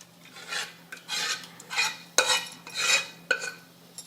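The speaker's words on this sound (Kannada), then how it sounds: "ಈಗ ನಾ ಮ್ಯಾಶ್ ಮಾಡಿ ಹಾಕೊಳಕತ್ತೀನಿ ನೋಡ್ರಿ." Cooked lentils being mashed with a spoon in a pot, a series of about seven short rubbing, scraping strokes with metallic clinks, close and unhurried, no talking.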